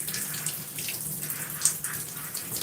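Tap water runs steadily over hair to rinse out conditioner, a continuous close splashing and hiss with small fluctuations and no talking.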